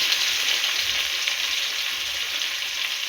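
Sliced large onions dropped into hot ghee and oil with cardamom, cloves and cinnamon for chicken biryani, giving a loud, close, steady crackling sizzle that continues unbroken with no talk.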